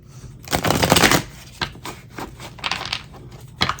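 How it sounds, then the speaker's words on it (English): Tarot cards are shuffled in several quick riffling bursts, one long burst first, then shorter flicks and taps, close and fairly quiet with no talk. "I'm gonna do 5 shuffles for that Hierophant energy."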